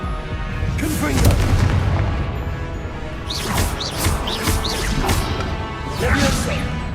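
Confringo fire spells bursting in combat in Hogwarts Legacy, a wizarding action game, with booming blasts and crackling impacts repeating over a dense, loud game soundscape, with voices calling out spells.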